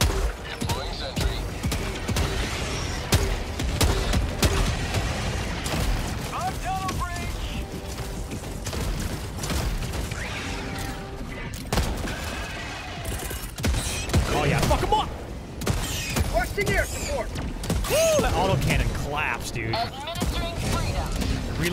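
In Helldivers 2, a deployed sentry turret fires dense, continuous bursts of gunfire amid booms and clanking battle noise, loud and sustained throughout, while voices talk over the fighting.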